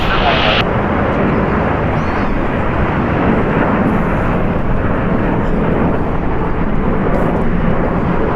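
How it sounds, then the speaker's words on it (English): A Boeing 757 departing at Los Angeles International Airport makes a loud, steady jet roar that fills the whole stretch, with radio talk over it. "Boeing 757 will depart off the right."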